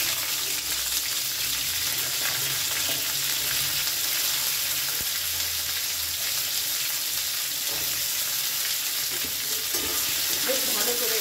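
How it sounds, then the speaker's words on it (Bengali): Chopped amaranth (note shak) stems fry in a hot pan with a loud, steady sizzle throughout, stirred now and then with faint scraping, no talking. "এবারে এর মধ্যে দিয়ে দেবো আমি কেটে রাখা নোটে শাকের ডাঁটাগুলো"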